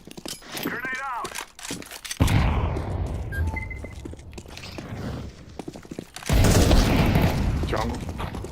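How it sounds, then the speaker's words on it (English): Grenade blasts and bursts of gunfire from a tactical shooter video game, loud booms and rattling shots arriving in heavy waves with a few footsteps between them. "Grenade out."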